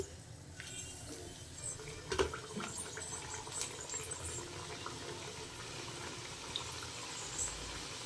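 Jackfruit-based layered sweet pieces deep-fry in hot oil over a medium flame, giving a soft, continuous bubbling hiss with a few brief louder pops and crackles, fairly faint and steady.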